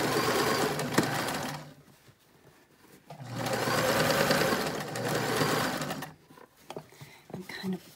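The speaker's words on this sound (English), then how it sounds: "I'm going to zigzag stitch inside to the out" A sewing machine zigzag stitching a fitted face mask with a wired nose area, running in two long steady whirring bursts separated by a pause, then short stops and starts, with a voice talking over it.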